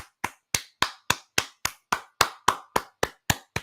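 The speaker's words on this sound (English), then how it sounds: "Let's take a moment of congratulatory clapping" About a dozen sharp, evenly spaced claps from a single pair of hands, crisp and close in a quiet room, a slow congratulatory beat.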